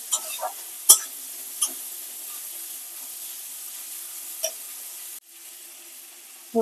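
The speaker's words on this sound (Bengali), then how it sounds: "মাংসগুলো একটু ভাজা ভাজা করে নিয়ে তুলে নেবো" Chicken pieces fry in a pan for coriander rice, giving a quiet, steady sizzling hiss. A few sharp clinks of stirring break through, and the sound briefly drops out near the end.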